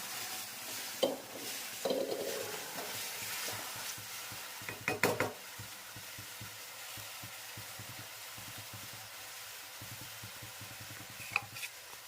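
Stuffed brinjal curry bubbling and sizzling in a pan, with repeated scraping stirs and a few metallic clanks of a spoon against the pan, fairly close and without talk.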